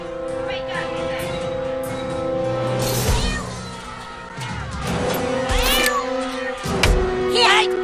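A cat meows repeatedly in the video game South Park: The Stick of Truth, several rising and falling yowls over steady game music and background effects.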